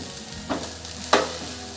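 Sweet sabudana khichdi with jaggery and crushed peanuts being sautéed and stirred in a pan, giving a soft steady sizzle with two brief louder scraping stirs, no talk.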